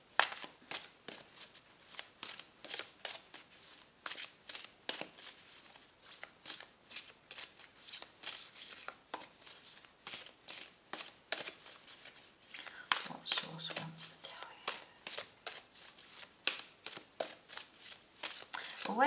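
Nefertari tarot cards being shuffled by hand, a quiet, close series of rhythmic riffling swishes repeating steadily, with a brief voice partway through.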